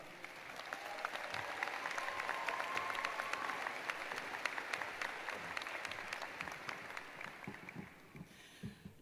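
Sustained audience applause greets a commencement speaker walking to the podium at a Georgia Southern University graduation ceremony, a dense, steady wash of clapping from a large crowd that swells early, holds for several seconds, then thins out near the end.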